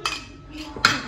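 Spoon clinking against a bowl while mixing yogurt, two sharp metallic taps about three-quarters of a second apart with soft scraping between, close by and without talk.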